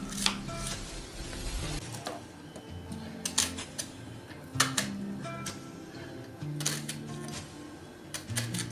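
A washed onion being cut with a knife on a board, a series of irregular sharp taps and clicks at close range, fairly quiet, with some faint kitchen clatter between the strokes and no voices.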